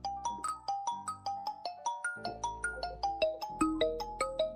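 A phone rings with an incoming call, its melodic ringtone repeating in quick bright electronic notes over a steady beat, loud and close with no voices.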